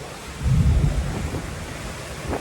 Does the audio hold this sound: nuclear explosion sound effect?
no